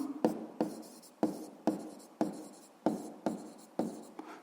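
A pen writes on paper, jotting down a physics formula in short scratchy strokes that repeat in a steady rhythm, quiet and close with no talking.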